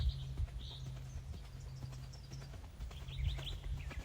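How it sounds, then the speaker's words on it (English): A horse's hooves clip-clop at a steady walking pace during a riding training session, the footfalls fairly close and set against a light background hum with faint bird chirps. "Very fortunate to have this horse."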